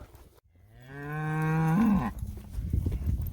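A single long, loud cow moo, rising then falling in pitch, followed by shuffling and rustling noise close by.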